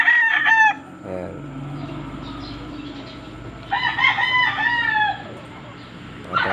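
Gamefowl stag of the AEJ Golden Boy Gilmore line crows loudly twice, a long harmonic cock-a-doodle-doo near the start and again mid-clip, with a faint third beginning at the end over steady farmyard background.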